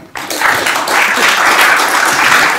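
An audience at a festival debate bursts into applause after a brief quiet start, swelling within a moment into loud, sustained clapping from many hands.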